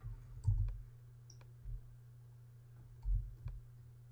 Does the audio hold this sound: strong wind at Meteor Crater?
no